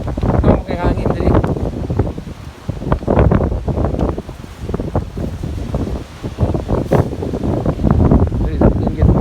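Strong seaside wind in Sanary, France roars steadily and buffets the microphone in uneven gusts, loud and continuous throughout.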